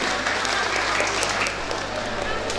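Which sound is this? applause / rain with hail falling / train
applause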